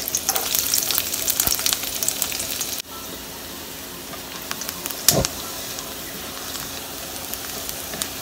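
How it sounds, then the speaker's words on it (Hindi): Garlic fries in a generous spoonful of oil for Punjabi-style baingan bharta, with a loud steady sizzle that settles to a softer, even crackle after a few seconds, a clink of a spoon midway and no talking. "ਇੱਕ ਚਮਚ ਇਸ ਤਰ੍ਹਾਂ ਬੜਾ ਤੇਲ ਦਾ ਪਾਵਾਂਗੇ गार्लिक डाल देंगे"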